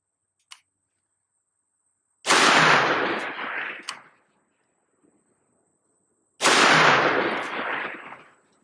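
A Smith & Wesson 500 Magnum revolver firing 325-grain bullets lets off two loud, close booming shots several seconds apart, each with a long echoing tail and faint clicks and handling noise around them.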